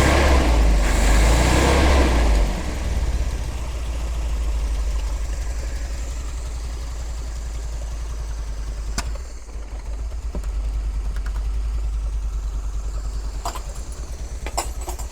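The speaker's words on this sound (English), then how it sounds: "I've got an idle now, which is good." A Triumph TR7 engine idling, a loud close low rumble that is rougher for the first two seconds, then settles into a steady even throb with a few sharp clicks near the end.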